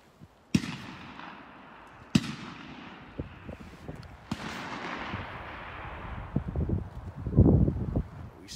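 Gunfire at an outdoor shooting range: sharp reports with echoing tails, three distinct shots spaced a couple of seconds apart at moderate distance, followed by fainter pops and scattered thumps.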